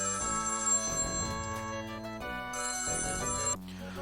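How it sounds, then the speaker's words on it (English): A phone rings with an incoming call, playing a melodic ringtone of repeated bright tonal phrases at moderate volume that stop abruptly near the end. "I got a little phone call there."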